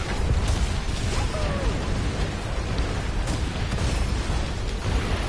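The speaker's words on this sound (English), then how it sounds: "Fucking mortars." Mortar explosions in a gunfire video game, a dense roar of booms and crashes blending into a continuous loud rumble with some sharp pops, with no speech over it.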